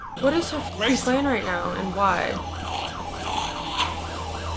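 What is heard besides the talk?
emergency vehicle siren in the background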